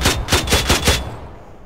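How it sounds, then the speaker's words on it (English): Five warning gunshots fired in quick, evenly spaced succession at a speeding van, loud and sharp with short echoing tails, then the shooting stops and the scene falls quiet. "Warning shots now."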